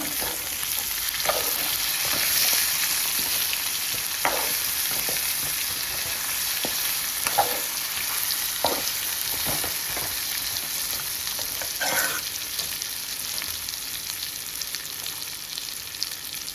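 Brinjal curry frying in a pan, a steady close sizzle of hot oil running throughout while a utensil stirs with intermittent scraping clicks against the pan; no talking.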